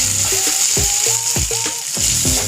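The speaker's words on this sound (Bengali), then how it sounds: "আবার আমি চালের সাথে একটু নাড়াচাড়া করে নিচ্ছি" Rice stirred in a hot pan with ginger paste and garlic paste, a steady sizzle under repeated scraping strokes of a spoon, each sweep giving a short squeaky rasp in an uneven rhythm.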